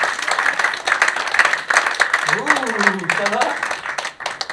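Audience applause in a crowd, dense steady clapping throughout, with a voice speaking briefly over it partway through.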